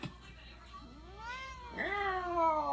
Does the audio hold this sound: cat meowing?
yes